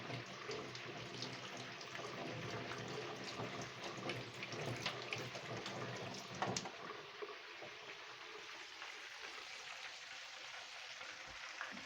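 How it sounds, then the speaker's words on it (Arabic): Running tap water splashes steadily over hands being washed in a home kitchen after preparing crispy fried chicken, a continuous close wash that eases off slightly toward the end. "اغسل ايدي بس"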